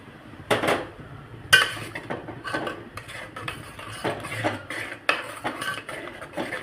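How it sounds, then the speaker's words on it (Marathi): A metal spoon stirs boiling milk in a pot, giving repeated scraping strokes and sharp clinks against the metal in an uneven rhythm. The sound is close and fairly loud, with no talking. "हा रस काय करायचा, थोडा थोडा त्याच्यामध्ये टाकून द्यायचा आणि त्याला चमच्याच्या साहाय्याने असं ढवळत राहायचं।"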